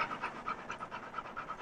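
A dog panting outdoors in a public park, quick rhythmic breaths about five per second, close and fairly quiet, with no talking.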